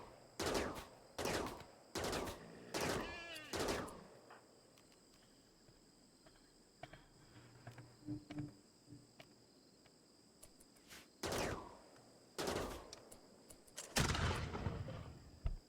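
Sharp gunshots in a video game from a high-tech weapon and a rifle, with several loud separate shots early, a quiet stretch with faint ambient noise and insect-like chirps, then more shots near the end.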